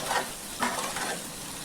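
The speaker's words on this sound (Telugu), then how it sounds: "మరి ఒకసారి ఇవన్నీ వేసుకుని బాగా కలుపుకుందామండి" Spices such as salt, chili and coriander powder are stirred into okra pieces in a hot pan, with a few close scraping strokes over a constant soft sizzle and no voices.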